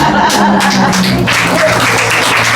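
A short burst of clapping from a crowd greeting the new managers at a state hospital in Urla, heavy and close, with some voices mixed in.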